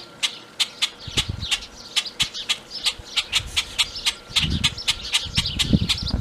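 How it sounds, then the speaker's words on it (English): Doves calling from trees overhead, with young doves nearby: rapid, regular bright calls repeat steadily close by throughout, while soft low rustling and handling noise rise beneath them. "These are baby doves."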